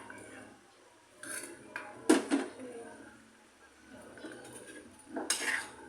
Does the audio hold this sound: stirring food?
yes